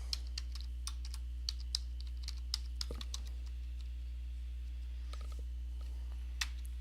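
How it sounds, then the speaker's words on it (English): Keys clacking in bursts as an email address is typed on a computer keyboard, a quiet steady run of clicks over a low constant hum, with a couple of sharper taps near the end. "Just copy it to the clipboard, type in my email address."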